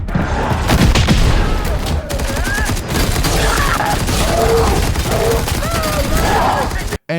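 Gunfire from a Halo TV series battle scene as Covenant forces attack: dense, loud bursts of shooting and booms over a continuous rumble, with shouting voices mixed in, ending in an abrupt cut.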